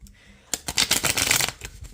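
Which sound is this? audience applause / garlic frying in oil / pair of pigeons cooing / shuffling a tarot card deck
shuffling a tarot card deck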